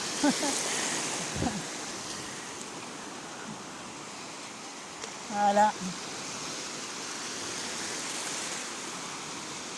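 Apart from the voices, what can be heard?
small ocean waves at a surfing beach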